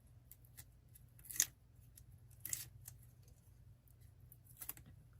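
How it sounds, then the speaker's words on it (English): Scissors trimming the edge of a paper card craft piece: a few crisp, close snips, spaced apart over a low steady hum, with no talking. "this piece again just went over the edge a little, so we'll just trim that off"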